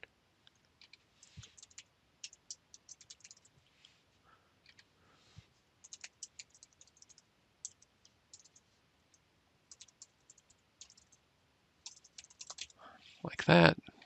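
A username and password are tapped out on a computer keyboard in short irregular bursts of crisp, close key clicks separated by pauses, with a brief louder voice sound right at the end.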